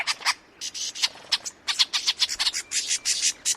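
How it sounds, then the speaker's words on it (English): Harsh, scolding bird alarm calls like those of a flock mobbing a predator. The chattering chips come in quick irregular bursts, loud and close, with little background. "it perfectly reproduces the alarm calls made by a mobbing flock of birds that has spotted a predator"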